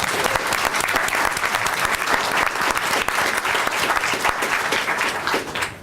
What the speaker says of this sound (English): can I have a round of applause for Dr. Kane?